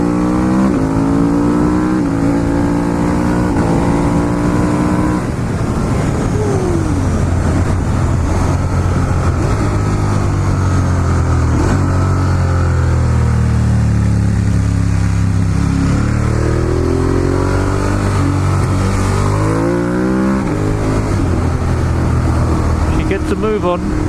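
A Ducati Monster 1200S naked motorcycle's engine revs loud and close, its pitch sweeping up and down through repeated throttle blips and gear changes, with a steady rumble underneath throughout.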